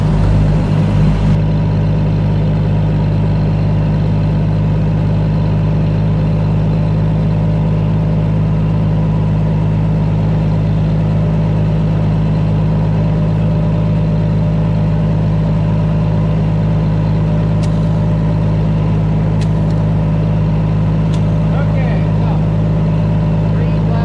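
Tractor fitted with a front loader idling close by in a workshop yard, a steady low diesel drone with a constant hum that runs unbroken throughout, a few faint knocks near the end.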